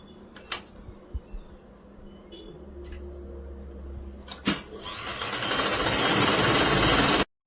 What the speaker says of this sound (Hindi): साथ में सिलाई कर रही हूँ।